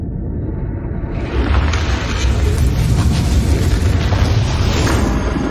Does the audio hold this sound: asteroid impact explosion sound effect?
yes